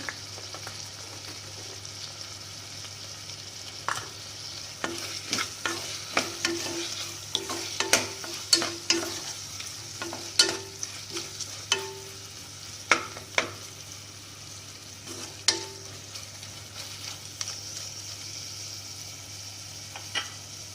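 Tomatoes cooking in a frying pan over low heat for brinji rice, with a steady soft sizzle and scattered scraping clicks of stirring that come in irregular bursts near the middle, close and moderately quiet.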